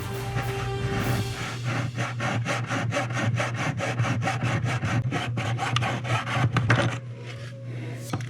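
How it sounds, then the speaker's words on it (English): A hand saw cuts a piece of sidewalk for tabletop gaming terrain with steady back-and-forth strokes, loud and close with an even rhythm, and stops about a second before the end. "I'm not going to quite saw it down to 1 inch."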